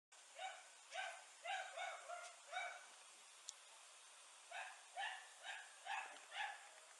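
A dog barks in two clusters of about five sharp, evenly spaced barks each, split by a quiet pause and heard from a moderate distance in a hushed neighborhood setting.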